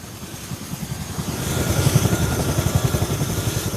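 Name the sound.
military medical evacuation helicopter in flight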